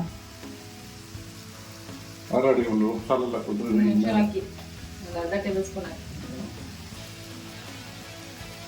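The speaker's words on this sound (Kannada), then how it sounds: "ಆಗ ಬೇಯಿಸಿಕೊಂಡಿರೋ ಆಲೂಗಡ್ಡೆ ಹಾಕೊತಾ ಇದ್ದೀನಿ" Boiled baby potatoes added to a hot tempering, a steady sizzle running beneath a person speaking loudly through the middle of the clip.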